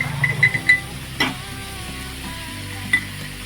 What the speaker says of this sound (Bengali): দেখো মা ওটস রান্না করছে, এই যে সব রকম সবজি দিয়ে ওটস রান্না করছে।